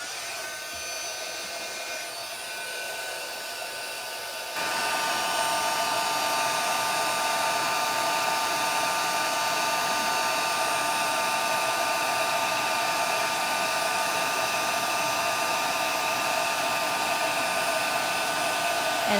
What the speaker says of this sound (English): I'm just going to turn my embossing gun on